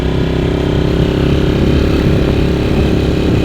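A motorcycle engine idles steadily at the top of a high mountain hill, a loud, continuous low rumble with an even throb that stays constant throughout, with no talking.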